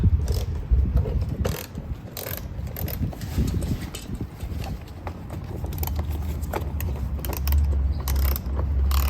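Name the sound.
screws being removed with a ratchet tool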